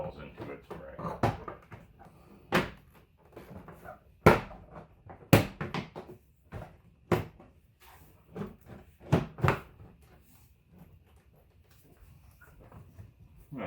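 A door panel from a 2000 Hyundai Sonata being hooked back onto the door and pressed into place, giving scattered sharp plastic clicks and thumps spaced across the stretch, close by, with someone talking between them.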